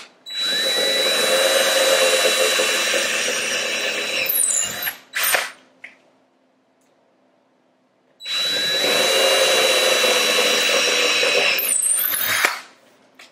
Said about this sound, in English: And then you keep your drill horizontal